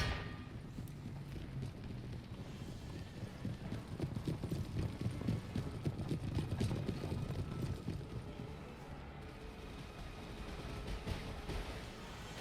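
Cavalry horses charging in the Empire Total War battle game: a dense rumble of many hooves pounding, swelling louder in the middle and easing off toward the end, with faint distant battle noise underneath.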